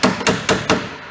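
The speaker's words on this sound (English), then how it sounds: "tap it a few times with the flat side" A ball peen hammer's flat face strikes a nail fitted with a washer four times in quick, evenly spaced sharp metallic taps, close and loud, with no voices.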